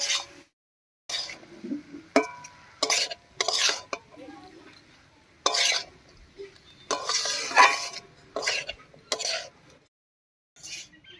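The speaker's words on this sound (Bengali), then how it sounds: "এবার একটু নাড়িয়ে নিয়ে সেদ্ধ করে রাখা বাঁশকরলটা দেবো।" Boiled bamboo shoots being stirred into a masala of meat spice and green chillies in a pan, with intermittent bursts of spoon scraping and clinking against metal, separated by quiet gaps, close by.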